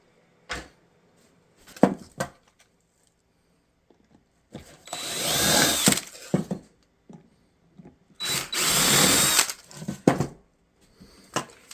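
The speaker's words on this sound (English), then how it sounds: "I'll also show the countersink I use" A countersink bit drilling into wood trim, with two sustained whirring, grinding bursts of a few seconds each, separated and surrounded by brief clicks and handling knocks.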